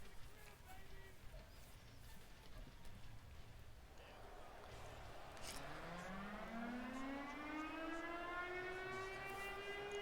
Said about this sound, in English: That's just not what the Seahawks air siren sounds like at all